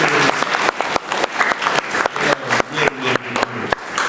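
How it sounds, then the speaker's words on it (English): Audience at a student council inauguration giving a round of applause, loud and close, with crisp individual claps in an irregular, lively rhythm throughout. "So how about a round of applause"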